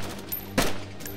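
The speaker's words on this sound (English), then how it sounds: "Shots. Shots. That's not us," Two sharp gunshots in DayZ about half a second apart, moderately loud over a low background hum, with no talking.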